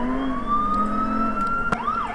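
Police car siren wailing close by during a traffic pursuit, a steady rising and falling tone held loud across the whole stretch, with a brief sharp knock partway through and no talking.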